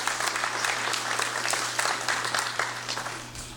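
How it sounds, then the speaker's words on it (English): Legislative congress audience giving a round of applause for the President; dense, continuous clapping from many hands, steady and moderately loud for the whole span. "Let us give him a round of applause."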